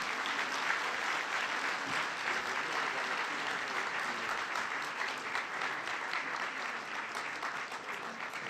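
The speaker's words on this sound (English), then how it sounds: "Please give a big round of applause to His Excellencies." An audience at a universal health coverage conference gives sustained applause as dignitaries leave the stage, continuous and even, heard from a moderate distance at fairly low level.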